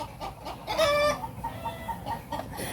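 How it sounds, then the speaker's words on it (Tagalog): A chicken clucks close by, a short series of throaty calls with one louder drawn-out squawk, over faint background noise. "Baka nagtatawa lang yung manok."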